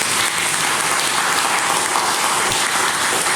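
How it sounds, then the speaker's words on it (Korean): A church congregation applauds steadily and enthusiastically during a Sunday service, sustained clapping filling the room for several seconds. "우리 힘차게 박수로"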